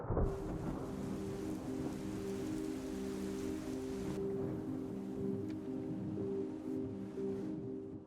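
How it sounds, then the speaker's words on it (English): Night thunderstorm with rain falling steadily and low thunder rumbling beneath it, a continuous soft wash of rain at moderate distance with no voices. "It's a stormy night."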